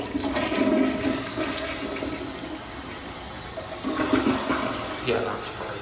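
A 2002-era double siphon toilet in a Walmart public restroom flushes with a loud whooshing rush of water, then a gurgling refill that swells and fades in waves.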